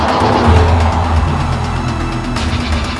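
An Audi S5 switched into dynamic mode runs with a loud, steady engine note from close by, a continuous rumble with no speech over it.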